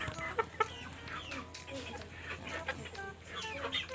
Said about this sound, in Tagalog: Ito ang malaking inahin.